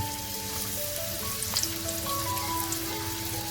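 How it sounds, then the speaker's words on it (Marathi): Surmai fish pieces frying in hot oil over a low gas flame, a steady close sizzle with faint crackles throughout, no voices. "आता फ्राय करायला ठेवायचं आपल्याला एक एक पीस फ्राय करायला टाकत जायचे"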